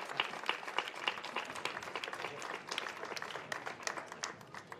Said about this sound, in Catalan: un fort aplaudiment al Jaume, que és el que ha guanyat el concurs.